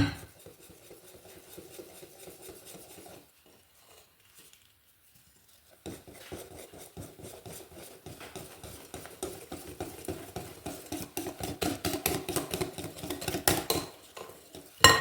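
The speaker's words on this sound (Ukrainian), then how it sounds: "Опять додаю трошки муки. Вимішую." Pancake batter for Odesa-style crepes being whisked by hand in a bowl as more flour is added, with a steady rhythmic clatter of utensil against dish, a brief pause, then faster, louder mixing.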